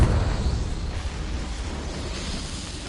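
A Confringo spell explodes in Hogwarts Legacy: a loud, close blast at the start decays into a rumbling, crackling wash that fades over a few seconds.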